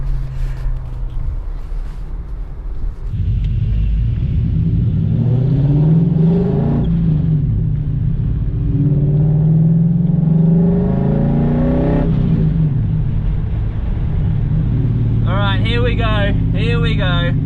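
Two BMWs, an E92 335i with the N54 engine and a supercharged E39 M5 with the S62 V8, roll out and pull hard in a roll race. The engine drone is heard from inside the car, loud and steady, rising in pitch through the gears, with speech briefly near the end.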